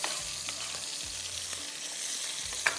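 Green chillies, tomatoes and onions fry in a pan for matar pulao, giving a steady, close sizzle with a few soft stirring knocks and a brief clink near the end.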